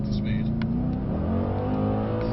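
Mercedes C63 on a track, its engine building steadily under acceleration, close and continuous, with a voice talking over it.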